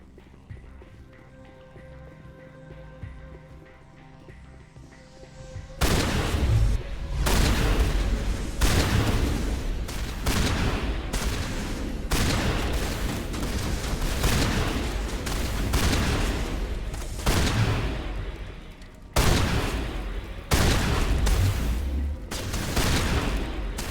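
Pistol gunfire in the video game Mass Effect rings out as a long run of loud, sharp shots in irregular clusters, with booming impacts and a brief lull before the firing resumes, no talking.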